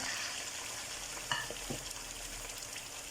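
Chicken pieces frying in a pot, a faint, even sizzle with a couple of brief scraping clinks as they settle, quiet and with no voices.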